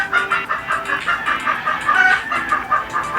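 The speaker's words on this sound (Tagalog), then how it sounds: "Ang gulo ng manok. Nangitlog siguro yung manok, kaya magulo." A chicken clucks repeatedly in quick, agitated bursts, close by and fairly loud.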